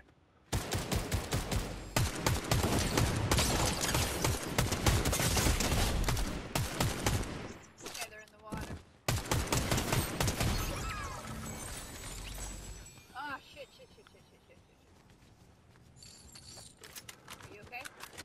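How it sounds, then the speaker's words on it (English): Video game gunfire rattles in rapid, loud bursts through most of the stretch, thinning out toward the end as the noise fades to quieter game sounds. "shooting at me apparently"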